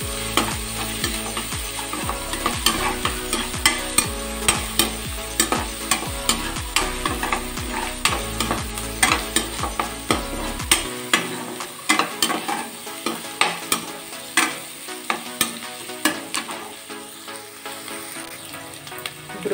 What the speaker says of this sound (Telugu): ఇందులోనే ఒక స్పూను అల్లం వెల్లుల్లి పేస్ట్, ఇది కొంచెం వేగే వరకు, పచ్చివాసన పోయే వరకు వేయించుకోవాలి.